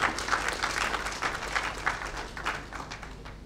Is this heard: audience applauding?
yes